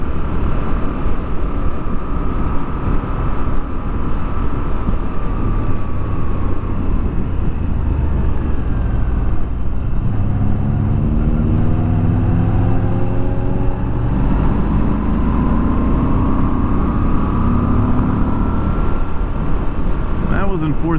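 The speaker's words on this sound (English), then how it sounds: "You can kind of hear the exhaust a little bit." Moto Guzzi V7 Special motorcycle, a V-twin, ridden in fourth gear. Its exhaust drones steadily and rises and falls in pitch as it pulls, partly buried under heavy wind rush.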